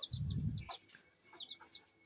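A hen clucks on a rooftop in a short, loud burst, followed by softer intermittent clucks and high chirps from small birds nearby.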